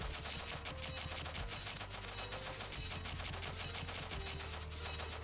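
Rapid continuous shot fire against a boss in Touhou Little Doll Queen, a dense rattling machine-gun-like stream over pulsing game music, steady and unbroken.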